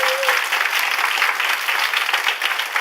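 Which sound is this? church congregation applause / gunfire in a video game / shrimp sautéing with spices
church congregation applause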